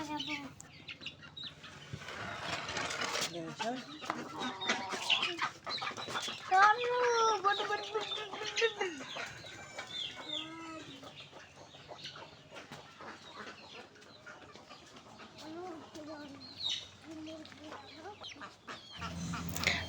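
A local country rooster clucking and squawking close by in short, irregular bursts, with a person talking throughout.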